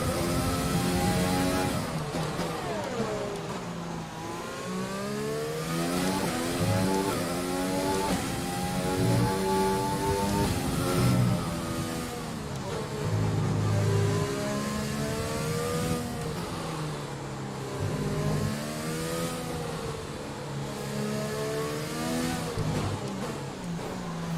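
An F1 car engine in the video game F1 2020, screaming and revving up and down through repeated gear shifts as it brakes and accelerates, loud and continuous throughout.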